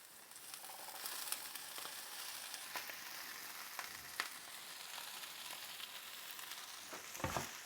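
Butter melting and sizzling in a frying pan full of greens at an outdoor backyard breakfast, a steady soft frying hiss with a few faint clicks and a low thump near the end, no talking.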